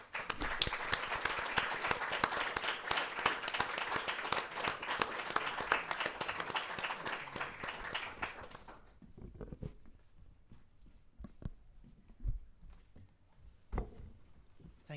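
Audience applause after a panel of speakers at a library research event, a dense burst of clapping for about nine seconds that then thins out into a few scattered claps and faint room noise.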